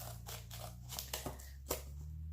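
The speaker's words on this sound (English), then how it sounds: "And then I just will finish cutting off the spine here with my scissors" Scissors snip through the spine of a book being made into a glue book, a few sharp cuts spaced unevenly over a steady low hum, close and fairly quiet.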